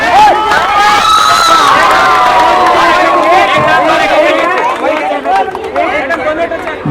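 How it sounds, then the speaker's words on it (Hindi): A large outdoor crowd at a kabaddi final cheers and shouts loudly, a dense roar of voices and whistles with an announcer speaking over it, tapering slightly toward the end. "जोरदार तालियां एक बार।"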